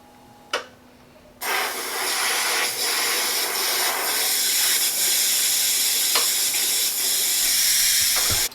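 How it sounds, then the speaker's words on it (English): An airbrush is cleaned out with a close, loud, continuous hiss of air and spray. It starts after a brief click and runs steadily without talk. "Clean out airbrush real quick."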